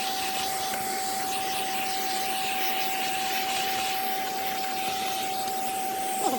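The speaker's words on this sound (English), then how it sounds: "Let's just vacuum the mess out." A Hoover Senior U4058 upright vacuum cleaner runs steadily and loudly, sucking up dust and debris indoors with a constant whine and no talking.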